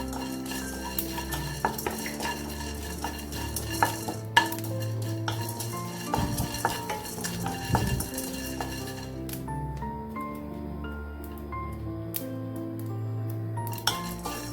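Fennel seeds and black pepper being dry-roasted in a pan for a Kerala-style curry, with repeated scraping and stirring, metal utensil clinks against the pan and a faint sizzle, close and busy throughout.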